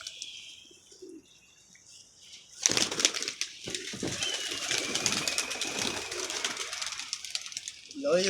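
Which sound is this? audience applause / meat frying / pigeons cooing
pigeons cooing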